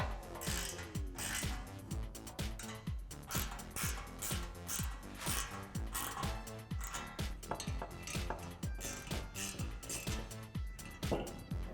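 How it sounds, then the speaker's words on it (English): A ratchet and wrench tighten bolts while a Camaro SS cold air intake is installed, a rapid run of close metallic clicks with faint clanks. "we'll get a 12mm wrench on one side and a 10mm socket on the other to tighten these down"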